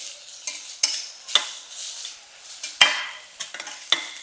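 Chopped onion and tomato frying in a pan, a soft sizzle broken by repeated sharp scrapes and taps of a spoon stirring, close and without talk.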